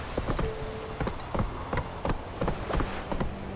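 The horse Roach gallops in The Witcher 3, loud close hoofbeats in a quick repeating three-beat rhythm over a faint buzzing background.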